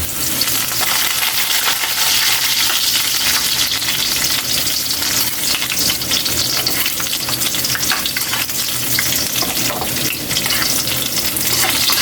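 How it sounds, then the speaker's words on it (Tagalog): Ginger sautés in hot oil in a pan as the base for octopus adobo, giving a loud, steady, dense sizzle that runs unbroken and close throughout, with no talking. "unahin natin kaili para mas mabango"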